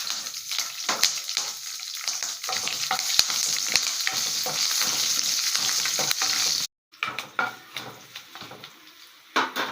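Green chilies and curry leaves frying in hot oil for tamarind rice, a crackling sizzle with spoon stirring and clinks against the pan, close by, briefly interrupted by a silent gap before the frying resumes.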